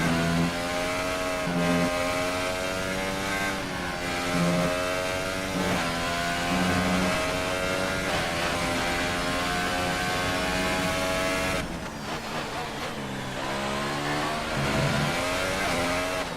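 An F1 race car engine in F1 2018 revs hard and continuously at close range, its pitch climbing and dropping in high-pitched sweeps as it works through the gears, with one brief dip in the middle. No one speaks.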